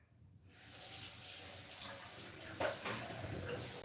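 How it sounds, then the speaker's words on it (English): Water runs and splashes steadily while a paint brush is soaked after edging walls. The flow starts abruptly and continues close by, with no voices. "And let's soak that brush in that water."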